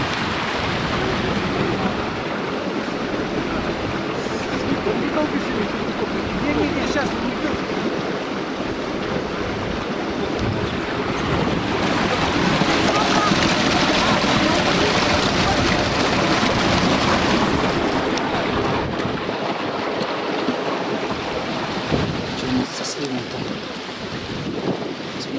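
Pond water from a beaver-breached dam rushes steadily as a broad, continuous roar, loud and unbroken, with wind buffeting the microphone.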